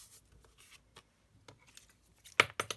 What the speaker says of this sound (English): Using my long scissors.